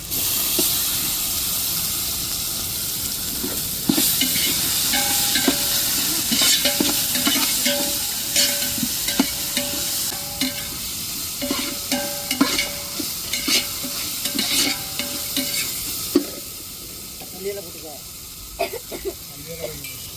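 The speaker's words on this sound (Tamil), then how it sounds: "இப்போ இஞ்சி பூண்டு சேர்த்துக்குருவோம்." Ginger and garlic fry with mint and coriander leaves in a pan, hissing and sizzling continuously while a spoon stirs and scrapes with frequent clinks; a voice is faintly present in the background.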